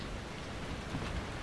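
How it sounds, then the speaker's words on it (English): Steady blood-rain falling in the Outlast 2 horror video game, a dense continuous patter of drops on surfaces with a faint low rumble, no voices. "It's raining blood out here."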